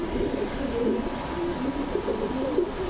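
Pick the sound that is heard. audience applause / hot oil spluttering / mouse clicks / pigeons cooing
pigeons cooing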